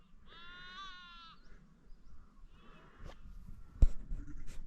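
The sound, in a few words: sheep bleating in a field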